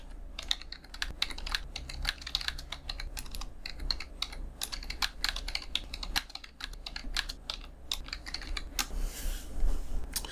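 Typing an email prompt on a computer keyboard: a steady, close run of quick plastic key clicks continues for the whole stretch, with no voices.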